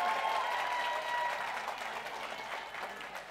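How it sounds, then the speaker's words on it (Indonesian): A theater audience at a Topeng DAM monologue performance by Wawan Sofwan applauds in a sustained, full wash of clapping that slowly tapers in loudness. "Tepuk tangan."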